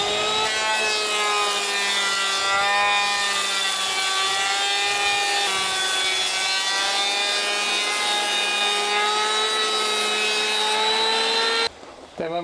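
A planer shaving down a wooden boat spar: a continuous close, loud whining drone with steady tonal harmonics that runs for about twelve seconds before stopping, with no speech.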